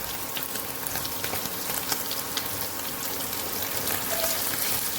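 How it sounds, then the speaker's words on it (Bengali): Paneer pieces fry until reddish-brown in a pan, giving a continuous, even sizzle with faint crackles throughout and no talking. "পনিরটা একটু লাল করে ভেজে নিই।"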